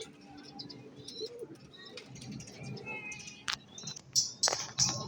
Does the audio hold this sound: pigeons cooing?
yes